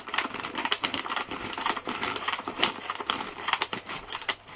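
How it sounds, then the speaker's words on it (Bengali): Papaya being sliced with a hand slicer, a run of quick crunchy chopping and scraping strokes in close, irregular rhythm, loud throughout with no talk. "এই পেঁপেটা আমি এখন এটা দ্বারা স্ল্যাশ করব"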